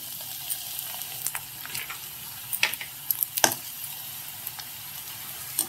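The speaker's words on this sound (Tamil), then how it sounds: "இப்போ கில்லு வத்தல் போடுறேன் பாருங்க. இது எந்த அளவுக்கு பொரியுதுன்னு பாருங்க." Oil sizzles steadily with scattered sharp pops and crackles as rice crackers fry, no voices present.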